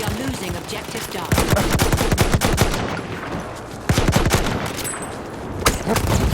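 A semi-automatic medic gun fires in Battlefield 1, rapid loud bursts of shots in quick succession with short pauses between volleys, close and dominant over faint background game noise.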